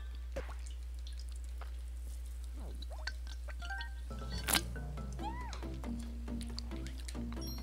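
Meowing from the cat power-up in the Super Mario 3D World video game, with a few short rising-and-falling mews in the second half over soft game music and light dripping effects.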